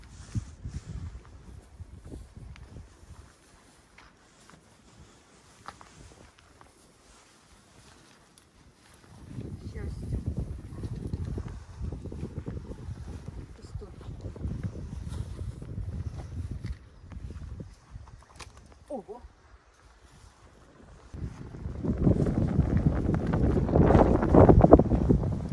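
Gusts of wind buffet the microphone in low rumbling bursts, rising and falling, strongest toward the end, with occasional faint voices.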